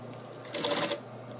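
A sewing machine stitches a fabric scrunchie in one short, fast mechanical burst of needle chatter lasting under half a second, close and fairly quiet with faint background hum.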